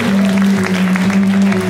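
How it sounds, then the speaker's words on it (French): A concert audience at an Octobre Rose event in Dechy applauds loudly, a dense, steady wash of clapping running throughout over a sustained low hum. "On peut applaudir très fort, vous savez quoi?"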